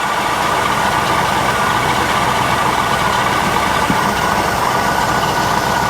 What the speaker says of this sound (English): Now it's a matter of adjusting the idle screws to get